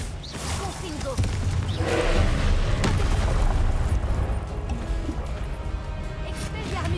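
Spell explosions from the Confringo curse in the Hogwarts Legacy video game, a sustained loud rumbling blast with booming bursts and a dense crackling wash over several seconds.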